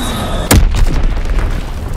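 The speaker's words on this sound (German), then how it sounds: "Lenkbombe abgeworfen." A guided bomb detonates in Call of Duty: WWII, a single sharp, loud blast half a second in that rolls into a long rumbling decay.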